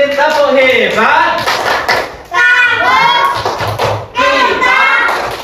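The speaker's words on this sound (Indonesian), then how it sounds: "Oke, berikan tepuk hebat untuk kelompok Al-Khabir." A classroom of children chants and claps the 'tepuk hebat' rhythmic cheer, loud close voices broken by sharp thumping claps in short bursts.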